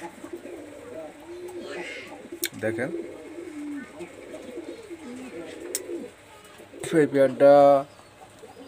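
A breeding pair of Pakistani high flyer pigeons in Khulna giving soft, repeated throaty coos close by, swelling to a louder burst near the end, while someone talks over them.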